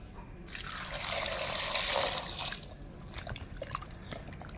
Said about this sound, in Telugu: ఇప్పుడు వీటిని వాటర్ వేసి వాష్ చేసి పక్కన పెట్టుకుందాం